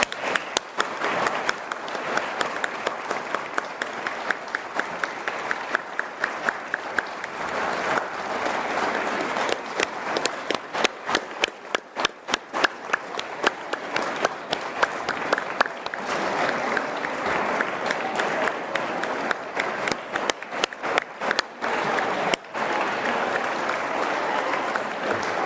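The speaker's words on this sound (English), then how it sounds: "Give them another round of applause." Long, sustained audience applause for young participants at a New Zealand constitutional workshop finale, many hands clapping steadily with a few rhythmic bursts, continuing without talk for over twenty seconds.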